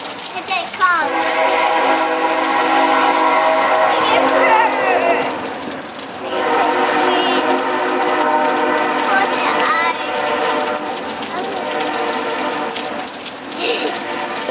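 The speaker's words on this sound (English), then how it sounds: "There's the train! You hear it?" A train passes during Hurricane Irma, its horn sounding in long sustained tones that fade and return over the sound of rain.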